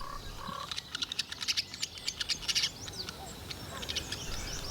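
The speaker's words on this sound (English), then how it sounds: "the morning birds were singing not just to hear their own voices" Morning birds sing in the breeding season: a run of quick, high chirps and short trills in rhythmic bursts, fairly close, over a quiet outdoor background.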